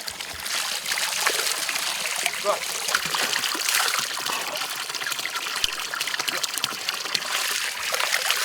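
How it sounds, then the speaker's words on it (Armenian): Water running and splashing into a cows' drinking trough on a mountainside farm, a steady close trickle and pour with irregular splatters throughout, heard on its own without voices. "Այս էլ մեր կովերի ջակուզին է, ստեղից են ջուր խմում։"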